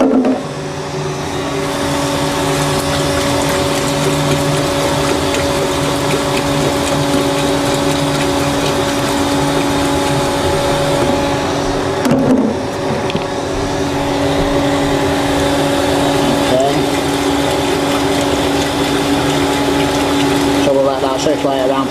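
A power flushing machine pumps water through a large central heating system of about 30 radiators, giving a loud, steady, continuous pump hum and water rush throughout.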